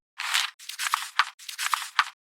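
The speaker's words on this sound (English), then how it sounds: "my interview with Shellie will follow the note-taking sounds" Pen scratching on paper as notes are written for a podcast interlude, a few quick close bursts of strokes with brief pauses between them, no voices.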